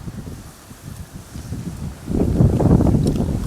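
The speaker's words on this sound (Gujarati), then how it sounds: "પવન એવો આવે છે" Wind blows across a village field, a soft rustle at first that swells into loud, buffeting gusts against the microphone about two seconds in, with no one speaking.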